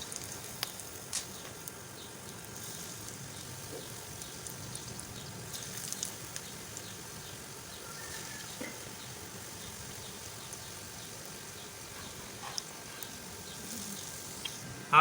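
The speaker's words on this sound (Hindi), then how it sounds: "हमारा ऑयल गरम हो चुका है। हम इसमें अपनी ये मिर्च डालेंगे।" Battered green chillies sizzling and crackling in hot oil, a steady soft fry with scattered pops and spits, faint and close with no talk.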